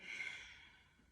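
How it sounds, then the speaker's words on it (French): A single soft exhale through the nose during a yoga session, close and quiet, tapering off over about a second. "Je respire que par le nez."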